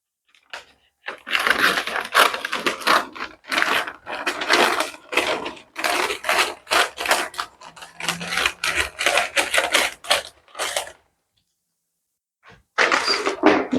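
Wrapping paper for gifts is cut with crisp, rapid snipping and rustling in uneven runs, broken by a long pause before a final short burst.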